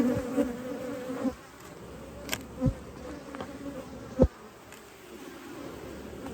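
Honey bees buzz around an open beehive with a deep brood box and three medium boxes, a close droning hum with individual bees zipping past the microphone.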